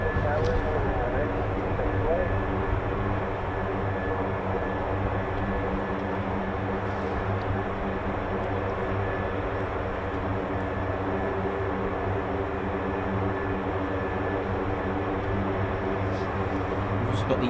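Boeing E-4B Nightwatch jet engines spooling at RAF Mildenhall airbase, heard as a continuous distant roar with steady low hum and a broad hiss that stays level for the whole stretch.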